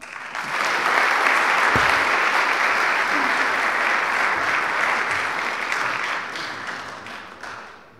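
Sustained audience applause fills the hall for about eight seconds, steady and full before tapering near the end, welcoming a speaker at a lecture on Catholic-Orthodox dialogue.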